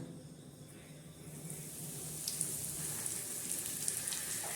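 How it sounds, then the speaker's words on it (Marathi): Bangda mackerel pieces frying in hot oil on a tawa make a faint, quiet sizzle that grows a little louder and more crackly partway through, with no talking. "चला आता मस्तपैकी आपण तव्यावर एक एक मच्छी करून टाकून देऊया"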